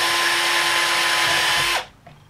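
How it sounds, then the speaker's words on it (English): A power drill with a 3 mm bit bores a hole in a Gauge 1 Class 66 model locomotive, a steady high whine held for nearly two seconds before stopping abruptly, then a faint brief rattle. "First of all, we use something like a 3mm drill bit"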